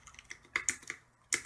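Keys clack in scattered, irregular strokes on a Cooler Master CM Storm Quickfire XT mechanical keyboard with Cherry MX Brown switches, heard alone and fairly quiet with a few sharper presses standing out.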